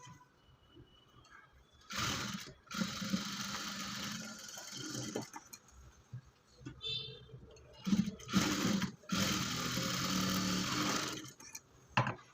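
Sewing machine stitching a folded edge of blouse fabric, running in bursts of steady mechanical whirring separated by short pauses, fairly close and alone.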